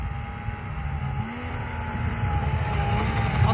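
A small engine idles steadily with a low, even rumble and a faint whine, continuous throughout with no speech.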